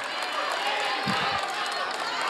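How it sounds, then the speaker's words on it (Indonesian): An audience at a presidential debate applauds the three presidential candidates, producing a dense, steady wash of clapping from a large crowd that stays loud throughout. "Sekarang boleh saya kasih waktu untuk berikan tepuk tangan bagi ketiga calon presiden."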